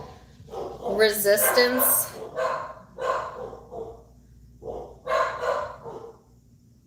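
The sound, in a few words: dogs barking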